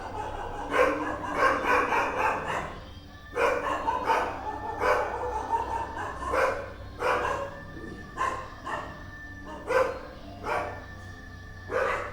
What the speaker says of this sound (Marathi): अचानक कुत्रे भुकत होते